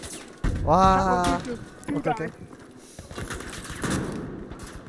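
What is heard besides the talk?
shotgun gunfire in video game Battlefield V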